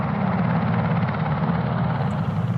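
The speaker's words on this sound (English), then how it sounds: "A helicopter just landed right there." A helicopter sits on the ground close by at night near a forest campsite, its rotor and engine making a loud, continuous, steady roar throughout.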